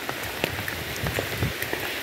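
Heavy rain pours steadily in the mountains, a dense even hiss of drops drumming on surfaces close by, with no talk over it.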